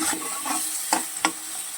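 Food sizzles in a frying pan while a spatula stirs it, giving soft continuous frying noise broken by a few sharp scrapes, close and without voices.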